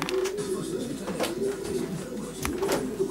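Pigeons cooing inside a pigeon loft, a steady low murmur of soft overlapping coos close by, with faint background music.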